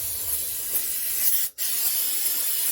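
A continuous hiss of aerosol contact cleaner spray into a Lister generator runs throughout, broken by one brief pause before the spraying resumes, close and steady with no talking.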